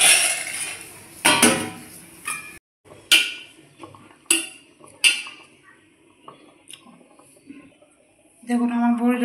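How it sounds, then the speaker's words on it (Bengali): A lid goes onto a cooking pot in a kitchen with a run of sharp metallic clinks and clatters, several close knocks spread across the stretch, ending in a brief ringing tone. "এখন আমি দিয়ে দেবো ঢাকা।"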